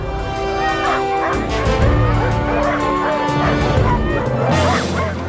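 An Alaskan sled dog team on wheeled summer training barks loudly and continuously, with overlapping yips and excited whines from many dogs close by.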